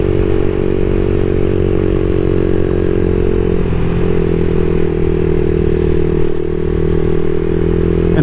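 A CSC SG250 motorcycle fitted with a MotoCult Stage 4 exhaust rides steadily, its loud, close engine drone holding an even pitch with a brief dip midway, no voices over it.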